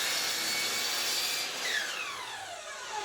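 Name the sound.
saw trimming the bevelled end of a wooden board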